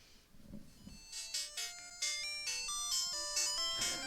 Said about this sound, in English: The bicycle theme is a classic theme.